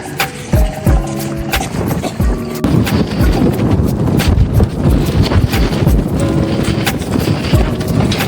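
Gusty wind in the Carpathian Mountains at Slavske, rumbling against the microphone, loud and steady, with some tonal hums and faint voices early on.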